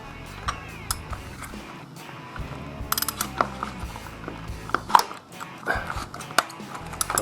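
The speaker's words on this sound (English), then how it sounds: "use the filter wrench like that and stick this in" A filter wrench grips and loosens the oil filter on a Harley-Davidson Twin Cam Softail, making close metallic ratcheting clicks and scrapes in uneven bursts.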